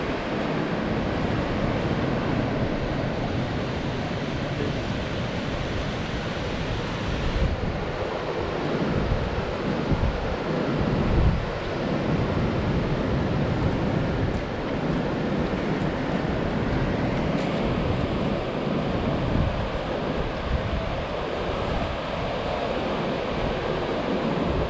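Atlantic Ocean surf breaks steadily on the beaches below the Rabat fortress in Morocco, a continuous wash of waves with gusts of wind buffeting the microphone throughout, no voices present.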